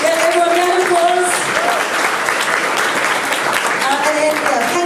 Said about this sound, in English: everyone round of applause.